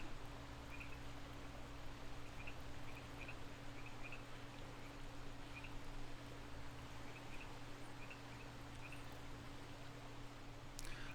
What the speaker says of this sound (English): You can hear the frogs up here a little bit better.